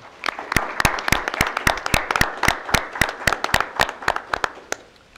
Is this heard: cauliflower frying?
no